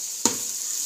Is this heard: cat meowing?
no